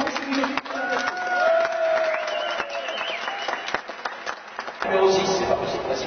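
A crowd at a 2003 finale in St Soupplet applauds the mechanics team with sustained clapping and some cheering. The applause rises and falls, and a voice briefly breaks through near the end.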